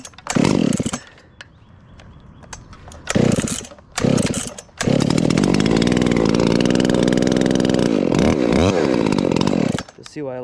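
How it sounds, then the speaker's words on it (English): A Makita chainsaw that is hard to start and idles poorly sputters in short bursts, then revs up and runs loudly and steadily up close for several seconds before cutting off. "It's a little, not the easiest saw to start, and sometimes it doesn't idle that great"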